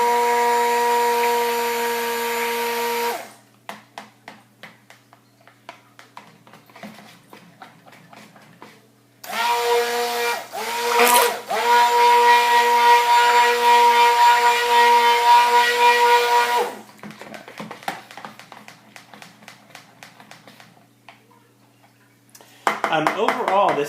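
A stick blender mixes fragrance oils into cold process soap batter at early trace, whirring loudly in two long bursts and one short one, with quieter scraping and stirring in between.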